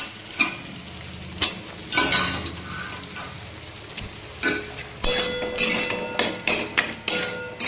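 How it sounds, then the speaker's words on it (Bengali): Vegetables being stir-fried in a pan in a home kitchen, with a steady soft sizzle broken by repeated sharp clanks and scrapes of a spatula against the pan, heard close and without talking. "এটাকে খুব ভালো করে কষিয়ে নিতে হবে"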